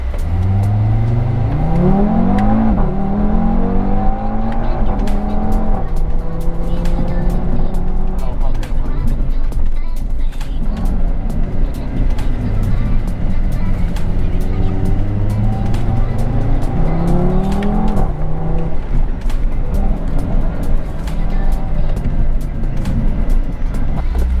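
Car accelerating hard with manual gear changes, the engine note rising, dropping at each shift and climbing again, loud and continuous, with someone talking over it.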